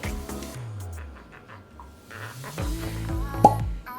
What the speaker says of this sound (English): Brand new bottle, love that cork.